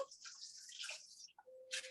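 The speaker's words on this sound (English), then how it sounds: "add the warm water in" Warm water is poured into a big bowl holding active yeast and honey, giving a steady splashing, trickling pour for over a second, then a brief tail of drips, close and fairly quiet.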